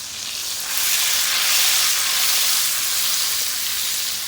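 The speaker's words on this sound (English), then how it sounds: "We're going to start off with adding our butter to our pan and allow it to melt on down. We're going to add our minced garlic as well." Butter and minced garlic sizzle in a pan on the stovetop, a steady bright hiss of frying that swells slightly and holds, close and unbroken, with no voices.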